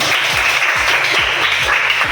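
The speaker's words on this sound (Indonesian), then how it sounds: "Tepuk tangan untuk kita semua dulu" Steady applause from a school class, with dense, overlapping hand claps at an even level throughout and no talking.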